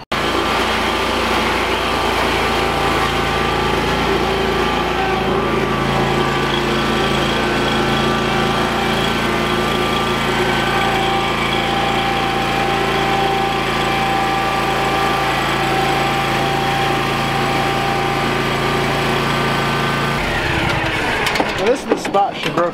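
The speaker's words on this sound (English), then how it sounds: "let's grab a mower and throw it on here and see what happens." Lawn mower engine running steadily close by as it is driven up onto a trailer with new decking, a constant high buzzing drone that shifts pitch and ends with clattering near the finish.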